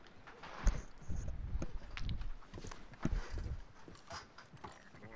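A horse's hooves clip-clop in Red Dead Redemption 2, an uneven run of soft thuds at moderate distance that swells and fades with the animal's movement.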